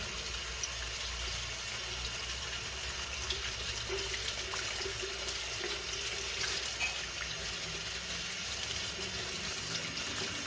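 Golden pothos roots with root rot rinsed under a running kitchen tap, a continuous, even rush of water splashing into a sink, close and uninterrupted throughout.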